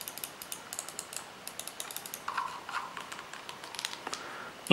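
Light, sharp clicks from the side buttons of a Corsair Scimitar Pro gaming mouse, irregular bursts of close taps with faint handling noise and a loud bump at the very end.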